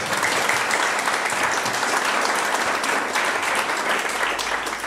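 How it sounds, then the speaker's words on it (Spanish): Sustained audience applause at a book presentation gathering honoring two musicians, dense and loud throughout, tapering slightly at the end. "pido nuevamente un aplauso para ellos"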